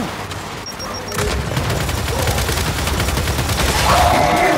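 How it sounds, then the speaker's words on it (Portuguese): A fragmentation grenade blows up in the Gears 5 video game, setting off a loud, sustained roar of blast and rumbling gunfire that holds steady for several seconds. "Granada de fragmentação!"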